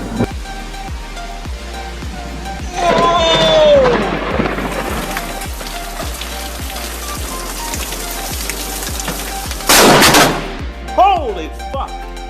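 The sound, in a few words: thunder from lightning barrage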